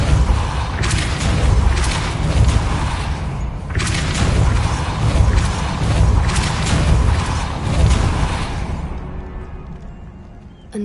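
A Depulso spell is cast in the Hogwarts video game, giving loud, booming magical blasts and thuds that repeat in several waves of impact before fading out, with no talking.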